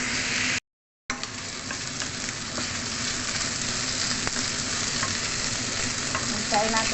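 Chicken pieces frying in their own rendered fat in a pan, giving a steady, close, continuous sizzle with faint crackles and no talking.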